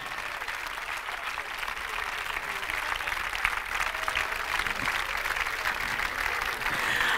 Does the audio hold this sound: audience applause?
yes